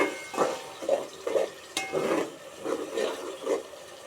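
A spoon stirring hilsa fish curry in a pan with oil on top, making a series of close, moderately loud scraping and wet stirring strokes at a steady, uneven pace, with no voices.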